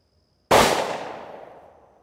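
A single close, sharp report from a Taurus 856 Executive Grade revolver with a 3-inch barrel firing a 100-grain Honey Badger round, followed by a decaying ring outdoors.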